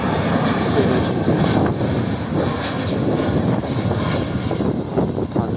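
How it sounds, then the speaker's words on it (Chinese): An airliner at Guangzhou Baiyun International Airport gives a steady, loud, broadband jet roar that holds at an even level for several seconds, with no voices over it. "飞机马上就要降落"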